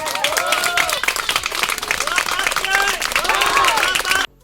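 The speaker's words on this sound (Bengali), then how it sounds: "সবার জন্য একটা জোরে হাততালি হোক" An indoor audience at a prize-giving event applauds with loud, dense clapping that continues steadily for several seconds before stopping abruptly.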